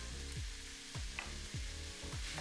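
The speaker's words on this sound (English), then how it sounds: "Now fry that all together for about 6 to 7 minutes, stirring regularly to break up any chunks until the beef is browned and the onions soft" Minced beef and a finely chopped onion, seasoned with salt and pepper, frying together in a pan, a steady close sizzle with a low repeating scrape roughly every half second as the mixture is stirred.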